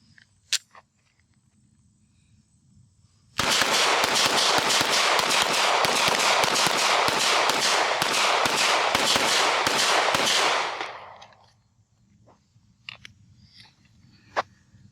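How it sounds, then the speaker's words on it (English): A Canik Mete SFT pistol fired rapidly with Federal ammunition: a dense, fast string of sharp shots lasting about seven seconds, loud and close, then quiet with a few faint clicks. "We're going to shoot it fairly fast just to kind of put it through some paces real quick."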